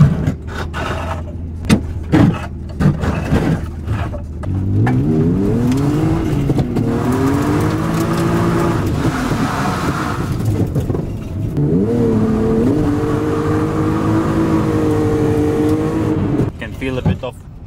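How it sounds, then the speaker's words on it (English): An old car out on a night test drive: its engine revs up and down in long, steady sweeps, close and fairly loud, after a few sharp knocks at the start. "But let's go for a test drive."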